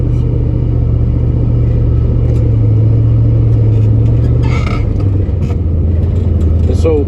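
An old 3/4 ton GMC truck driving on a farm in mild winter, a loud steady low engine rumble with a shift in pitch partway through and some clatter.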